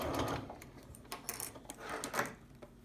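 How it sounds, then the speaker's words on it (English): A home sewing machine stitches the second side of a fabric strip onto another fabric for a textured-edge throw, running in a steady, close, moderately loud mechanical chatter with small clicking ticks throughout. "we're just sewing the second side of the strip to the second fabric"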